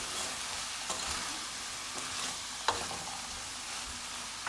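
Chicken stew with black pepper and salt being stirred in a pot, with bora, potatoes and carrot cooked in coconut milk: a steady soft sizzle broken by a few scraping strokes of a spoon, close and fairly quiet, no talking.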